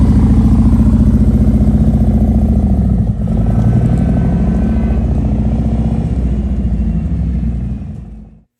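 A brand-new Harley-Davidson Road Glide, freshly tuned and cleaned, idles with a loud, deep, steady rumble and loping throb close by, a brief dip midway, then the engine shuts off and fades to silence.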